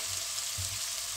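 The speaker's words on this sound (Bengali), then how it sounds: "মূলোটা আমি ভাজতে দিয়েছি।" Grated radish frying in a pan, a steady even sizzle heard close by with no other sounds.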